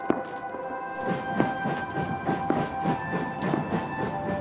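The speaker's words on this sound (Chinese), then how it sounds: "我们的小火车跑得好快哦" A small train runs along its tracks with a quick, rhythmic clickety-clack over a steady mechanical hum.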